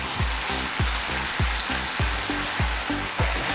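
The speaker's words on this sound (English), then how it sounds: "हल्का सा इसको हिला देते हैं" A spicy fish and prawn curry with coconut milk and curry leaves gets stirred in a pan, a loud continuous frying hiss broken by a regular rhythmic series of low thumps from the spoon, no talking.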